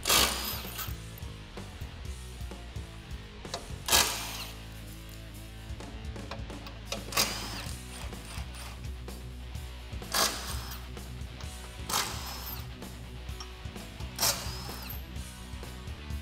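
Ratchet wrench with a 15 mm socket backing out bolts on a 2014-2015 Silverado front bumper face plate, giving rapid clicking bursts with several sharp, loud spikes, close by and without talk.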